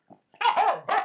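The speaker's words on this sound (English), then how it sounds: "you're barking, and you're doing absolutely nothing." Finnish Spitz barking outdoors on a walk, a short faint yip followed by a loud, close, sustained run of barks and then one more strong bark, with no talking.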